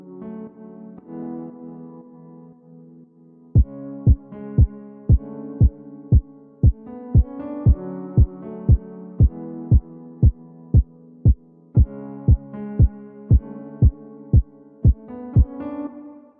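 Piano chords joined by a steady four-on-the-floor kick drum, the sidechain compression pumping the piano down on every hit so it swells between thumps; sparse piano alone at first, then a dozen or more evenly spaced kicks.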